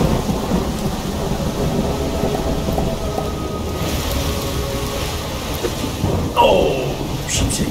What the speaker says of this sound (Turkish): Yıldırımlar, şimşekler ve yağmur. Fırtına.